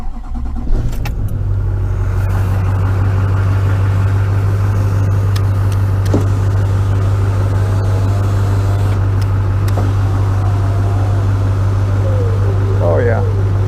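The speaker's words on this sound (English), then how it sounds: "Let's turn the engine on." A car engine starts with a short cranking burst and then settles into a steady, loud idle hum that runs throughout, with a few light clicks and a faint whine near the end.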